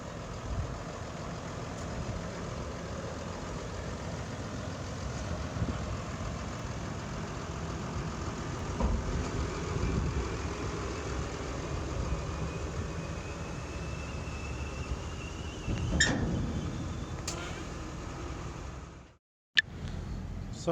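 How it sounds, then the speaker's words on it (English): Farm machinery engines run and idle in a yard during grass silage making, a steady rumbling drone with a tractor and trailer passing, a brief squeal and clank near the end, then a short cut to silence. "It's always a bit chaotic with all the machines in the yard."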